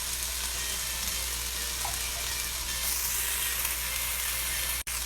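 Okra sizzles and fries steadily in a skillet, a continuous close hiss that holds even throughout without any talking.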